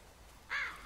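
A crow in The Walking Dead: Season 2 video game gives a single short caw over steady ambient game hiss.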